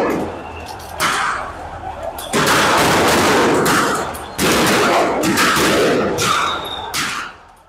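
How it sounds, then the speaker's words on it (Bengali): Police firing on unarmed protesting students in Savar, Dhaka: several loud, harsh bursts of gunfire come in separate waves, each sustained for a second or two, with brief quieter gaps between them. "আন্দোলনরত নিরস্ত্র শিক্ষার্থীদের উপর নির্বিচারে গুলি চালায় পুলিশ"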